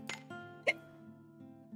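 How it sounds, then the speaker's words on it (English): A single sharp hiccup, close and fairly loud, breaks through quiet background game music. "Yeah. I'm having hiccups."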